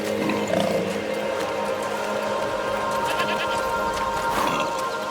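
Goats bleat in A Plague Tale: Requiem, a few drawn-out calls over a steady, busy game ambience, fairly close and moderately loud.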